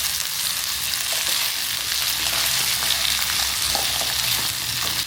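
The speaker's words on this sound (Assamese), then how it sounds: "তাৰপিছত তাত দিছোঁ পিঁয়াজ, তাৰপাছত এইখিনি বিন আৰু গুটি আলু ভজাইছোঁ।" Onion, beans and potatoes fry in a pan, a steady, close sizzle that holds evenly throughout with no voices.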